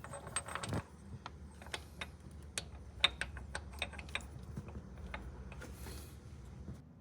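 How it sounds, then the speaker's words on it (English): Crankshaft pulley bolt on a 100 Series Land Cruiser being tightened with a Fluidampr damper installed: a run of sharp metallic ticks and clicks, close and irregular, like a ratchet working in short bursts. "we've got the crank bolt torqued down"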